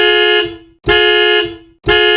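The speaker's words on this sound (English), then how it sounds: "My alarm's going off." A Chevrolet car's anti-theft alarm blares in three loud, harmonic horn-like bursts with short gaps between them, close by with no talking.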